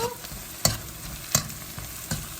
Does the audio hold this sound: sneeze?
no